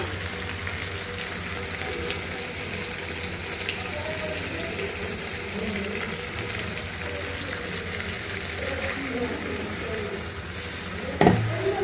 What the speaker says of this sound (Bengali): আমি মশলার সাথে আলুটাও কষা নিচ্ছি